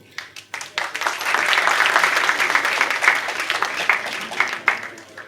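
Audience clapping during a Gujarati comedy show rehearsal, a few scattered claps that swell into dense applause and then thin out to isolated claps near the end.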